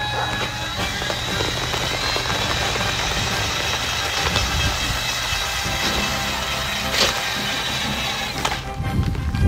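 A spin art machine whirls gold and red paint in a steady, loud whir with a gritty, rain-like patter of splattering paint that runs without a break and without voices.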